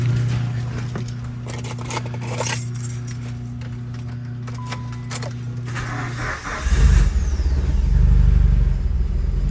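A Mitsubishi Evo that has sat in a garage for a few days cranks and fires, the engine catching with a loud low rumble and settling into a steady idle, after keys jingle and an electrical hum from the car.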